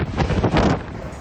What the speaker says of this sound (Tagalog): Tila nanununtok din ang hangin.